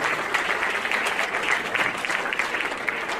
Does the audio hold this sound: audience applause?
yes